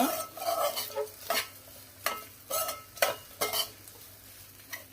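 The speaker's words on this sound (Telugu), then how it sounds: "మంచిగా కలిపేసుకోవాలండి ఈ వామ్ని అంతా తాలింపు దీనికి." Rice tossed with an ajwain tempering is stirred in a pan, a spoon scraping in short separate strokes roughly every half second to second, with a light sizzle underneath, close up and with no voices.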